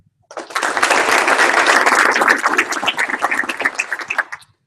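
Dense applause from an audience at a military retirement ceremony starts abruptly, holds strong for a few seconds, then thins into scattered claps before stopping.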